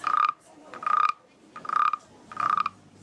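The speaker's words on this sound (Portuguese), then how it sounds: "É o barulho do sapo." Four rhythmic rasping croaks, each a short ratcheting burst of clicks, from a carved coconut-wood frog scraped with a stick, close and clear with brief pauses between.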